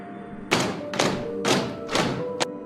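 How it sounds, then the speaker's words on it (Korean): Heavy thuds of a ghost banging its head against a wall, four or five dull, booming knocks spaced about half a second apart, loud and close with no voices. "이 소리는 귀신이 벽에다 머리를 박는 소리였다."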